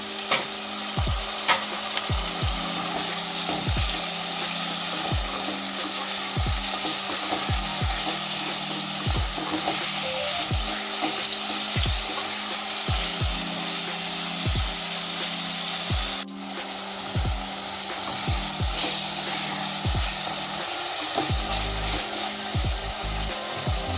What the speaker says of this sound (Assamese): এইখিনি অকনমান ভাজি লৈ ইয়াতে আমি এতিয়া দি দিম চিকেনখিনি